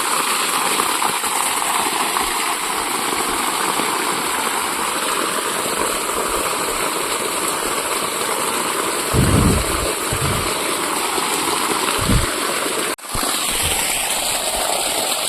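A water pump motor runs all day to water trees in a garden orchard. It makes a steady, unbroken drone with a rushing wash, and a few brief knocks near the end.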